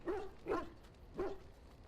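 Three barks from a Mabari war hound in Dragon Age: Origins, spaced unevenly across two seconds, moderately loud and close, with no talking over them.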